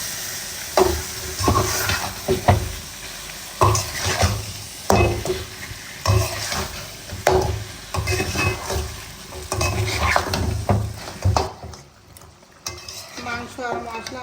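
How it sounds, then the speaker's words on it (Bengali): Beef pieces frying with spices in a pot, stirred steadily with repeated scraping and clinking of a utensil against the metal over a constant sizzle, close and fairly loud, quieting near the end. "মাংস আর মশলা আমার খুব ভালো করে নেড়ে চেড়ে নেওয়া হয়ে গেছে"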